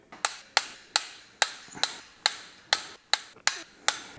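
A torque wrench tightens the cylinder head bolts on a 2.0T Gen3 VW/Audi engine for a Golf R, giving about ten sharp, close clicks at a steady, even rhythm with quiet gaps between them.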